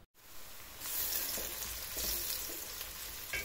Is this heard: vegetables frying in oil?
yes